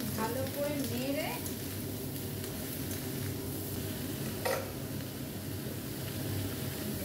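Salted dried kachki fish frying in a pan while being stirred, a constant loud sizzle with scraping stir strokes and a sharp clink of the utensil midway, under faint background talk.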